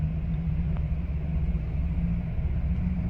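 A freight train shoving 20 cars west in the rail yard at Rochelle, Illinois gives a steady, distant low rumble that holds throughout at a constant level, with no voices.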